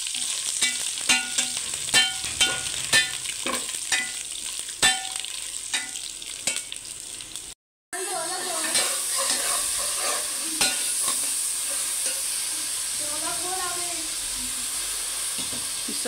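Steady sizzling of spices frying in a hot pan for cumin rice, a spoon repeatedly scraping and stirring, then a brief cut and continuous louder hissing frying.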